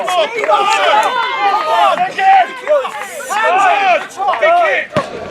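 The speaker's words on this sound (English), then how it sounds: "You can hear the crowd behind him." Spectators at a strongman competition cheer and shout, many voices overlapping loudly and continuously throughout with rising yells of encouragement.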